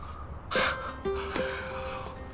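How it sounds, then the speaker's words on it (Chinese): A single sharp sneeze bursts out at close range in a quiet indoor scene from a Chinese romance drama, followed by a calm, low-level hush. "我说怎么这几天我老打喷嚏呢？"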